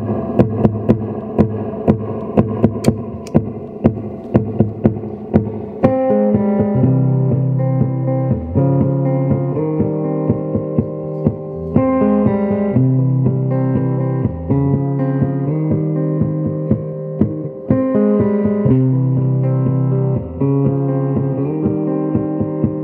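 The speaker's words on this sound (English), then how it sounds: "going through a Fender Super Reverb, starting off on that neck pickup" Warm, rounded electric guitar from a 1963 Fender Esquire's neck pickup on its dark circuit through a Fender Super Reverb tube amp, starting with a few strummed chords and then moving into a sustained melodic line with gentle reverb.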